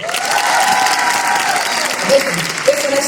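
A live audience at a talk-show evening claps in dense, sustained applause that fills the room, with a voice briefly heard through it near the end.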